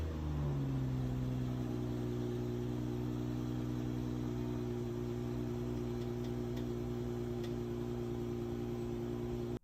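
A BMW X7 xDrive40i engine idles steadily and loudly after starting up, a constant low hum running close and unbroken throughout.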